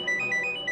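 A phone rings with an incoming call, a repeating electronic ringtone of short bright tones in a quick regular pattern, loud and close, with no voices.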